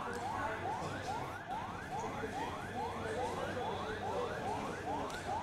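Fire engine sirens wail at an airport fire, a repeating rising sweep cycling steadily about every half second, loud and continuous over a dense rumble of background noise.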